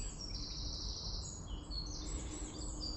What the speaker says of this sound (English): listening to the birds, waking up the woodland